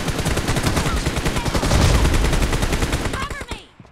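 Rapid bursts of automatic gunfire in a team deathmatch shooter game, loud and dense for most of the clip with shots overlapping into a fusillade before trailing off near the end.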